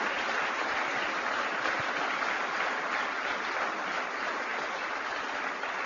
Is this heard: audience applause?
yes